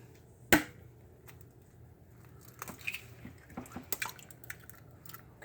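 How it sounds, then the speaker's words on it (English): A large egg cracked into homemade funnel cake batter gives one sharp crack, followed by soft wet squishes and small drips nearby, with no talking. "I'm going to put 1 large egg in."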